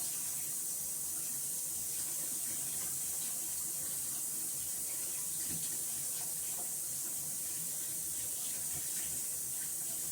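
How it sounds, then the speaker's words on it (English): Tap water runs steadily into a sink while soap-making equipment for aloe vera basil shampoo bars is rinsed, a continuous close hiss with small splashing variations and no talk. "And that gets rinsed immediately."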